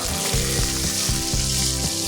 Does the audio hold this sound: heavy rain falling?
no